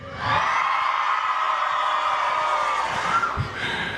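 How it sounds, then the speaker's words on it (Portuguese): A large crowd of children, teenagers and young people at a youth environmental conference shouts and cheers together in one loud, sustained roar lasting several seconds. "Quem é do time de Lula, dá um gritão aí."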